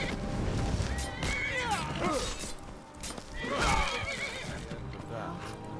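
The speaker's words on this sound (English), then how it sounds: "Sorry, didn't mean to hit the horse." Horse in the video game Skyrim whinnying twice, a rising then falling neigh early on and a louder one midway, with hoof clops and a struck thud around it and someone talking over the top.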